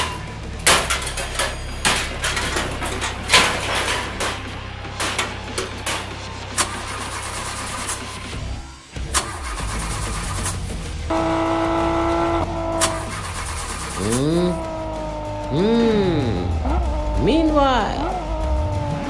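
A toy car in a farm-animal diorama prank scene, a broken-down vehicle being repaired, with an engine cranking and turning over, then rough revving and idling. Whooshing sweeps and other effects play alongside, and the engine is loud throughout.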